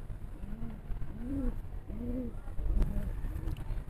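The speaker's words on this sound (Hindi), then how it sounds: "इंशाल्लाह बच्चे उड़ाने वाले कबूतर हैं जी।" Pigeons kept by an old fancier for flying coo in a series of low, rounded, repeated calls, close and clear over steady background hum.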